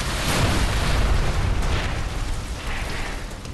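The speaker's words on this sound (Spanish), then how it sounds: "Le he dado con la explosión, ¿no?" A loud, dense explosion in the zombie game Dead Island 2 on PS5, a broad roaring blast that rumbles and slowly decays over several seconds with no voices over it.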